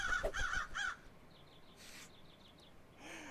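Crows caw in the Haunted Hotel: Phoenix video game, with a few loud calls up front and then fainter repeated cries in the background.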